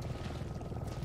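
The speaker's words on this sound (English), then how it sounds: "I hear a helicopter." A helicopter in the video game Resident Evil 7 gives off a low, pulsing rotor thrum. The sound is faint and steady, with distant rhythmic chopping across the short stretch.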